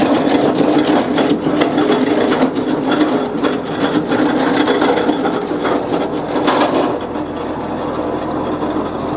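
A Scout T504C tractor engine drives an ARPAL 120 wood chipper, a loud steady mechanical roar with rapid rhythmic chatter that eases slightly toward the end.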